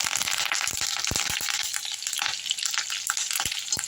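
Curry leaves fry in hot oil with chicken 65, a loud dense crackling sizzle with sharp pops and spatters, close and continuous.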